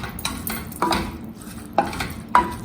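A spoon stirs tomato masala with a spoonful of ghee for dhaba-style masala khichdi, giving several short scraping strokes against the pan at uneven intervals, close and fairly quiet, with no talk.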